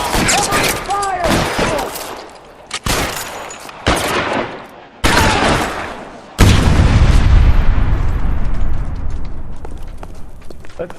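Repeated gunfire bursts in a shootout in L.A. Noire, sharp cracks and rattling volleys punctuating shouted voices, ending in a heavy sustained barrage that rumbles on near and loud.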